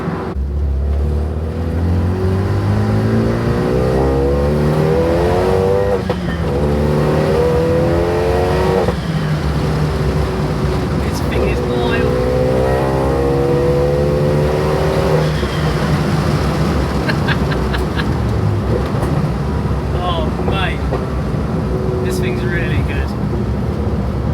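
A forged Renault Megane RS engine drones and revs steadily while driving, a loud cabin sound with rising and falling pitch as it accelerates. People talk over it throughout.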